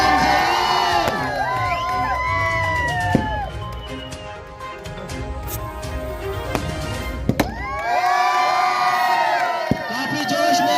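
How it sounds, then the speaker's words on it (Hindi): A large outdoor crowd cheers, whoops and shouts loudly at a cricket league final ceremony, with children's voices and occasional sharp pops like firecrackers, sustained throughout with a brief lull before a fresh burst of cheering. "जोरदार तालियों से इनका स्वागत करें।"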